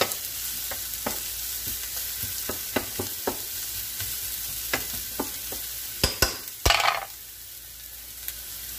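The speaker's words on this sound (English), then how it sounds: "You want to saute that." Ingredients for a Puerto Rican salsa sauté in a pan, with a soft sizzle beneath repeated sharp clicks and scrapes of a utensil stirring, ending in a louder clatter.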